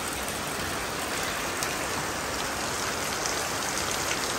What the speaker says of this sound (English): It is absolutely pouring down.